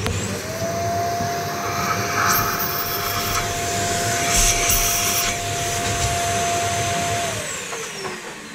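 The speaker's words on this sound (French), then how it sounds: "On passe un coup d'aspirateur." A vacuum cleaner fitted with a small hose sucks up metal chips from a 1993 Cadillac Northstar 4.6-litre V8 during an engine rebuild, a loud continuous whooshing roar with a steady whine, close and uninterrupted.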